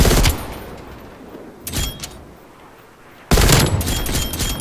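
Gunfire in a video game, with two loud bursts of rapid shots separated by a quieter stretch, close and sharp.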